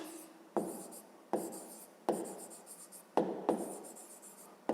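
Pen writing on paper while working a fifth-grade math exercise, a quiet scratching in several short bursts, each starting with a soft tap, close and alone.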